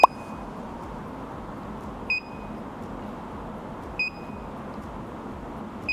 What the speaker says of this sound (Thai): ก็จะมีเสียงปี๊บก็คือตามจำนวน แซมปิ้งที่เราตั้ง ก็คือทุกๆ2วิ